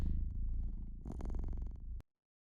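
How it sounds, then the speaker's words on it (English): Close, steady cat purring with a low rhythmic rumble, continuing for about two seconds before cutting off abruptly into silence. "If you just want to listen to cats purring for hours on end"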